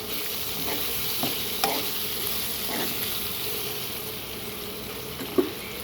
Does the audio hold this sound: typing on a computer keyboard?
no